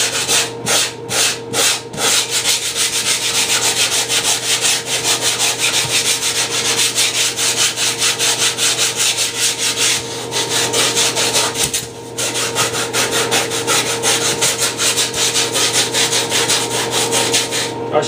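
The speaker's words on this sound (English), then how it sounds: "The mouse sander makes a big difference." A mouse sander works wood on a large 7.4-foot MD-80 RC EDF airliner model, a steady loud buzzing rasp that runs continuously, broken by a few short stops and restarts.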